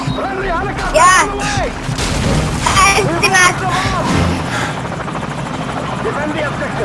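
Helicopter in the video game Call of Duty 4, its rotor thumping steadily and loudly through the whole stretch, mixed with bursts of gunfire and battle noise while players talk over it.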